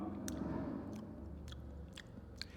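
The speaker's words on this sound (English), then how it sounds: "that motion of chewing helps to add saliva" Soft, wet chewing with sharp little clicks and smacks while espresso is tasted, a mouth working the coffee close up in a quiet room, with a few distinct clicks spaced about half a second apart.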